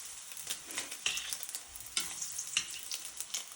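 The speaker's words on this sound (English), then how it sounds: "we get that nice sizzle going right in there" Rangoon wontons fry in very hot oil, a bright crackling sizzle with repeated louder bursts as pieces are stirred or moved, close and without speech.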